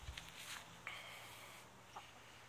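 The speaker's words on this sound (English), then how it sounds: "Come on, jumping chicken." A chicken gives a few soft, brief clucks over faint background noise, with a couple of small knocks or steps nearby; the sounds are quiet and sparse.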